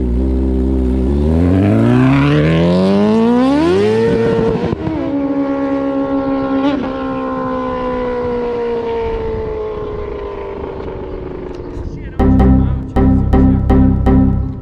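Kawasaki H2 motorcycle with 400 hp accelerating hard on a race track, engine pitch climbing steeply through the gears with a brief shift break, then a long high sustained wail, ending in a sharp sequence of upshift pops.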